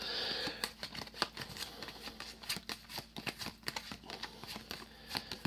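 Arkham Horror Third Edition board game cards being shuffled by hand, a close run of quick, irregular papery riffles and taps, quiet and without speech.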